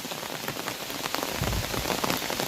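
Rain pours onto dense bushes and scrub in a forest setting, a dense, loud, continuous patter of drops on leaves with no talking.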